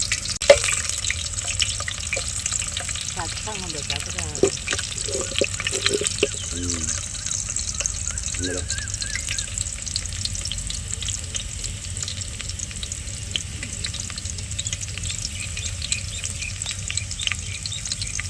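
Onions frying in a pan for a gandi fish curry crackle and sizzle steadily up close, with stirring scrapes and people talking over the cooking.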